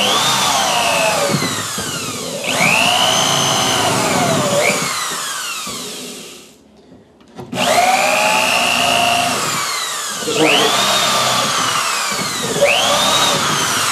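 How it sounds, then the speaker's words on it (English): A power drill bores down through wood, whining loudly at close range with rising and falling pitch as the bit cuts, stopping briefly midway and then starting again. "So now I got my"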